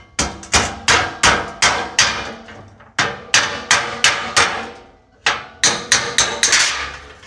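A body hammer striking the bent rear grill of a Rampside truck, sharp metallic blows landing close and loud in quick rhythmic bursts of four to six, with short pauses between groups.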